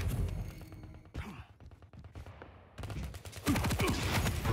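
Rapid gunfire from a Quake Pro League deathmatch duel, dense crackling bursts and whooshing projectile shots layered over one another, loud and continuous with brief gaps before a final heavy barrage.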